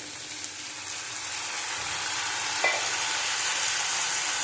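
Water poured into a hot pan of pointed gourd curry makes a loud, steady sizzle and hiss, close up, that holds without letting up.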